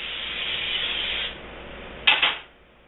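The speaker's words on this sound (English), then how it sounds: "got my cooking spray" Cooking spray hisses onto a skillet for pancakes in two short close bursts, preceded by a steady broadband hiss.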